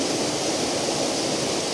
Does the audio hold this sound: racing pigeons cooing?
no